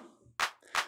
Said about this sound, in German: Um euch das Ganze zu demonstrieren, verwende ich jetzt eine Clap und die hört sich so an.